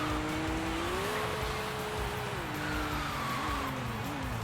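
A BMW E36 with a 3-liter inline-6 drives in Sega GT, its engine note droning steadily and rising and falling with gear changes, loud and continuous throughout.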